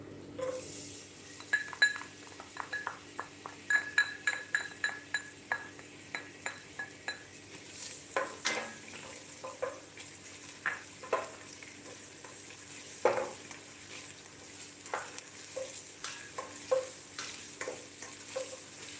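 Shallots are sautéed in a pan for garang asam, with a soft sizzle under a long series of rhythmic stirring and scraping strokes from a utensil against the pan, nearby and fairly quiet, with no talking.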